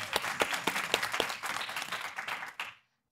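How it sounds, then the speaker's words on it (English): An audience at a talk on decarcerating women and girls breaks into applause, a brisk burst of many hands clapping together for a few seconds before it quickly dies away. "y'all can clap if y'all want"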